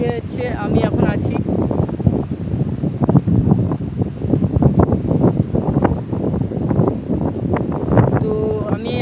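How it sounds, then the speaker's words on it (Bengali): Strong wind gusts buffet the microphone on a sea shore, a loud continuous roar and rumble throughout, with a person talking over it. "এখানে প্রচণ্ড বাতাসের কারণে হয়তো আমার কথাগুলো অস্পষ্ট হয়ে যাচ্ছে"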